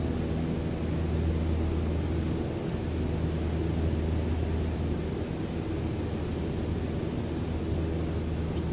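Steady broadband roar of a light aircraft engine climbing after liftoff from Sidney in Microsoft Flight Simulator 2020, a constant loud drone with low hum throughout and no talk.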